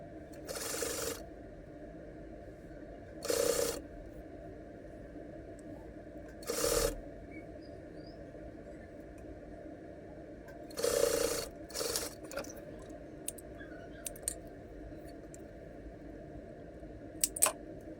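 A sewing machine stitching a folded ribbon runs in short, separate bursts of about a second each over a steady motor hum, with a few small mechanical clicks in between, close up.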